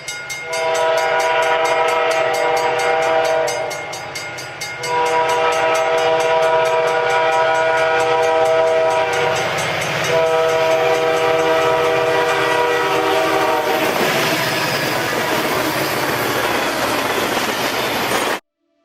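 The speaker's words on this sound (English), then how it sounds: "the 5202 had a Nathan K3L air horn" A Nathan K3L air horn on an SD40-3 locomotive blasts in long, loud chords, with brief pauses between sustained notes, ending in a rushing roar of the passing train and its wheels.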